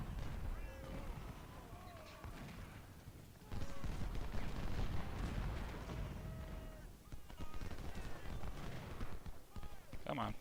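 Artillery fire in a Civil War strategy game, booming shots mixed with galloping hooves and battlefield clatter, with a voice talking over the din.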